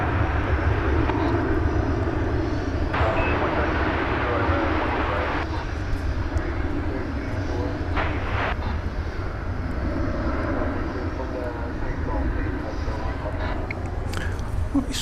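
Jet airplanes at Dallas/Fort Worth (DFW) Airport at night give a loud, steady engine roar. The roar rumbles on without a break, and a few faint knocks come through it.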